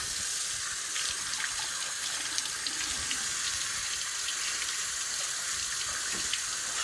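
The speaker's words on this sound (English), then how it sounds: "So just rinse this off." Tap water runs in a steady, continuous stream over a rusty metal relic being rinsed at a sink, close and even throughout with no talking.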